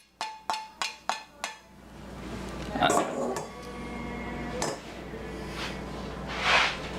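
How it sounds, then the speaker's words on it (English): A pan is put to soak in a kitchen sink. A quick series of five ringing clinks opens, followed by clattering and splashy rushing noise, while someone talks. "I'm soaking the pan"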